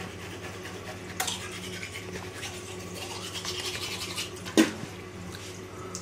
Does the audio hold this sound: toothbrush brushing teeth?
yes